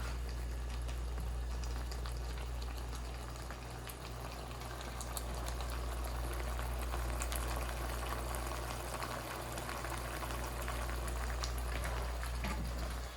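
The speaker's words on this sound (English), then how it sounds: "So we're going to bring this to a boil before we add the next ingredient." A pan of sauce with green pepper, black bean and beef boils steadily, a dense continuous bubbling and simmering hiss that stays close and even throughout, with no talking.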